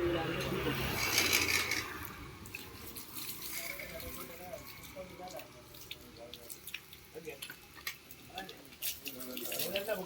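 Water runs from a tap in a village setting in Mathakal, Jaffna, a steady splashing stream that fades somewhat after the first few seconds, with people talking faintly underneath.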